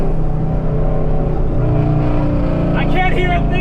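Camaro SS V8 with an X-pipe exhaust drones loudly and steadily throughout, a constant low rumble with some rising revving toward the end, while people talk over it.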